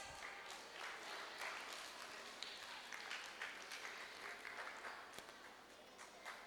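A church audience claps at a prize announcement during a VBS final day program, sustained dense applause at moderate level throughout.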